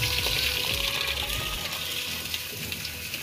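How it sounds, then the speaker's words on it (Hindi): Water filling up, a steady rushing gush of flowing water, close and continuous for a few seconds. "पानी भरने की प्रक्रिया इसमें स्टार्ट करते हैं"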